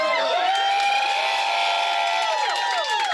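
Crowd at a campaign office opening in Des Moines cheering and whooping continuously, loud and close, with excited shouts rising over a dense wall of voices.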